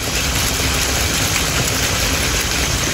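A steady, dense crackle and hiss of potato fritters frying in hot oil, close and continuous without pauses.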